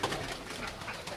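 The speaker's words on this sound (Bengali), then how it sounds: "সব পায়রাগুলো বেরিয়ে গেল" Pigeons coo softly in a loft with young birds, a low murmuring coo under a dense bed of fluttering and rustling, close and continuous for a brief moment.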